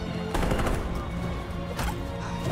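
Gunshots in Detroit: Become Human, a loud flurry of rapid shots with a second burst near the end, close and sharp over a steady game background.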